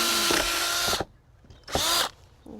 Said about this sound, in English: I also want to drill holes all the way through